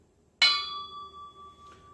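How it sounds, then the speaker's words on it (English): One sharp metallic strike of a screwdriver on a turntable platter, then a clear bell-like ring that sustains and slowly fades, close and alone. "We'll just whack it with a screwdriver and you can hear what I'm talking about."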